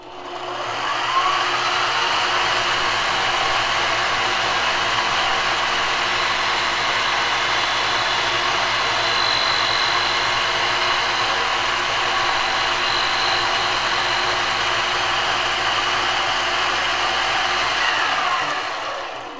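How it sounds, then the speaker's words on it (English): A metal lathe spins an African blackwood box lid at very high speed, giving a steady, loud motor whine and airy rush that holds constant for the whole stretch before cutting off at the end, with no talking. "When we're turning on the metal lathe, we want to have a very high speed and a slow feed rate."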